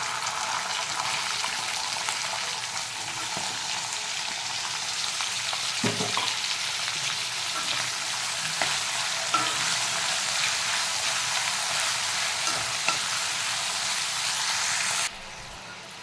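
Long potato strips frying in a kadai for sabudana khichdi give a steady, dense sizzle that runs unbroken at even loudness, with a few soft clicks of stirring scattered through it.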